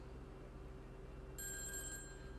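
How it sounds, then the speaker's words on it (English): In a car-customization video game, a phone rings with a bright electronic trill that starts partway through and repeats steadily over a low, quiet background hum. "let's get out of the car and answer this darn phone"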